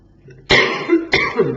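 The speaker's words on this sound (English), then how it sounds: "Don't seem to be able to shake this cough at the moment." Two harsh, forceful coughs close to the microphone, the second following about half a second after the first, with a quiet lead-in before them.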